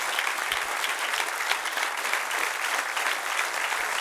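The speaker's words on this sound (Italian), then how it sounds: "On peut les applaudir" Sustained, dense applause from a theatre audience greeting a kickboxing club at a live show, even and loud throughout with no voices rising above it.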